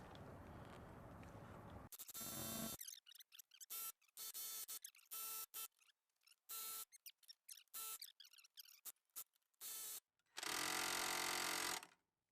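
A Milwaukee M12 cordless power hammer drives a pickle fork, firing in rapid rattling bursts of hammering that start and stop repeatedly, loud and close, separated by silent gaps, ending in one longer sustained burst.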